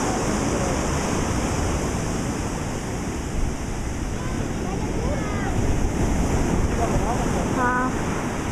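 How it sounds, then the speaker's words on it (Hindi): High water surging and crashing along the shore in a continuous loud roar with wind buffeting, and faint birdsong near the end. "पानी उतर जाएगा, नीचे चला जाएगा। ये हाई वाटर है।"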